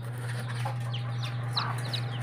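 Chickens cluck near newly hatched chicks in a small hatching setup, scattered short calls rising over a steady low electrical hum, fairly quiet and close.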